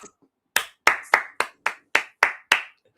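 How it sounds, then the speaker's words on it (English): A single person claps about eight times in a quick, fairly even rhythm, each clap sharp and close. "we're gonna give you a round of applause for that one"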